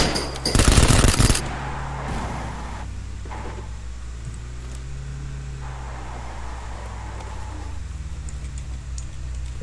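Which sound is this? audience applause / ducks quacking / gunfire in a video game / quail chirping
gunfire in a video game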